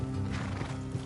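A horse in the video game Red Dead Redemption 2 whinnies loudly and close, with hoof clatter and a steady low rumble underneath.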